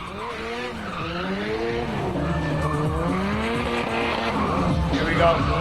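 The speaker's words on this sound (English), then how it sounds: "Holding the drift all the way around the course." In a racing video game, a car holds a long drift with steady tire squeal over a wavering, revving engine, loud and continuous throughout.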